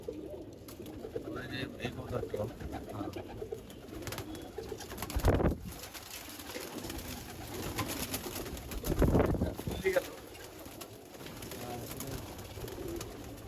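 A female tournament pigeon coos in low, soft phrases, close by, with people talking nearby and two louder broadband bursts of handling noise partway through.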